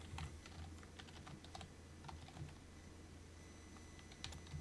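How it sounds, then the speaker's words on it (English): Soft, quick keystrokes on a computer keyboard as an admin username and password are entered at a workstation command prompt, tapping in irregular bursts over a low steady hum. "Type in our admin user and password."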